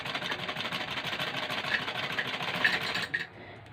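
A sewing machine stitches a garment neckline in a steady, fast mechanical whir that runs unbroken for a few seconds, close and moderately loud, then cuts off near the end.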